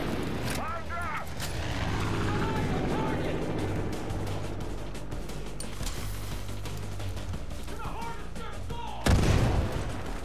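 A dynamite explosion in Far Cry 5 goes off as a sudden loud boom near the end, following a stretch of dense gunfire, impacts and game noise, with someone talking at times.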